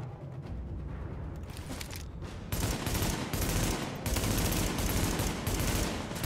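Rifle fitted with an ACOG scope firing in the video game Tom Clancy's The Division, sustained rapid bursts of gunfire that grow louder partway through, with dense repeated shots and no talk.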